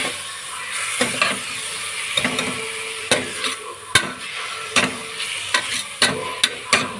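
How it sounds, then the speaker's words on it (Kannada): Tomato and ginger garlic paste fry in a pan under a constant sizzle, broken by a rapid run of sharp metallic clicks and scrapes as a spoon stirs close by. "ಟೊಮೆಟೊ ಮತ್ತು ಜಿಂಜರ್ ಗಾರ್ಲಿಕ್ ಪೇಸ್ಟ್ ಹಾಕ್ಕೊಂಡು ಚೆನ್ನಾಗಿ ಫ್ರೈ ಮಾಡ್ಕೊಳ್ತೇನೆ"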